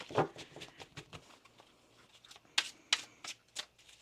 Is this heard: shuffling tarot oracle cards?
yes